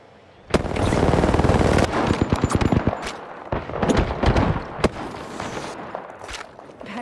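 Rapid automatic gunfire in Apex Legends: a dense sustained burst opens loud and close, then gives way to separate cracking shots and scattered impacts that thin out toward the end.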